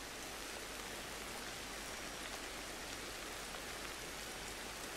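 Rain falls steadily in the video game Ancestors: The Humankind Odyssey, a dense, even hiss of downpour that stays constant and moderately loud with no other sounds standing out.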